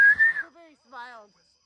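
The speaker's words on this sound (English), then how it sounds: "I'm going to whistle." A person whistles briefly: a bright, close note that slides slightly, then a short pause and a second fainter, wavering phrase, after which the sound stops.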